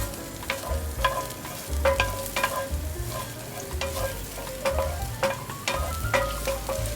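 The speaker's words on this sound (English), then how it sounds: "add a tablespoon of oil and drop in the garlic and chilies" Garlic and chilies sizzle steadily in a tablespoon of hot oil in a pan, with repeated scraping clinks of a utensil stirring and tossing them, close and crackling throughout.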